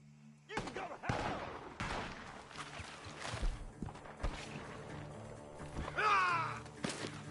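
Scattered gunshots ring out from a barn in Red Dead Redemption 2, sharp separate cracks at irregular intervals, mixed with footsteps, thuds and brief voices in a tense scene.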